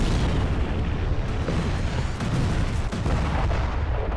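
Dense, continuous roar of explosions and heavy blasts from an attack in the Russia-Ukraine war, loud and unbroken throughout with no clear gaps or voices.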